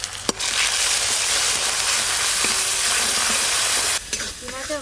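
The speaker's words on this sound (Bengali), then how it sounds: "মশলা বেশ ভালো করে ঝাল ঝাল করে কষা হবে" Spice masala with ground dried red chilli, turmeric and salt stir-fried in a pan for a dried taki fish and brinjal curry, a loud steady sizzle with scraping stirs, close up, briefly interrupted near the end.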